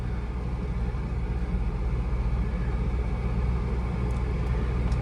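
A 2002 C5 Corvette cruises with a steady, low engine rumble and road roar heard from inside the cabin, even and continuous with no talk.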